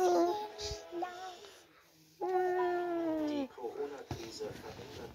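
A cartoon cat meows, voiced by a person imitating the sound. A drawn-out, wavering meow stands out among softer vocal sounds and brief background noise.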